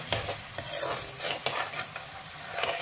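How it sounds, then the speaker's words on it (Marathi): Dal sizzles softly in hot oil tempering for thin poha chivda, with repeated scraping stirs of a spoon against the pan at a steady pace. No one speaks. "डाळ परतायला अजिबात वेळ लागत नाही म्हणून तर वेगळं तळून घ्यायची गरज नाही"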